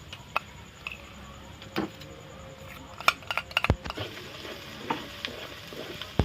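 Chicken with ginger-garlic paste and onion paste being stirred and fried, a quiet low sizzle punctuated by irregular clicks and taps of a spoon against the pan.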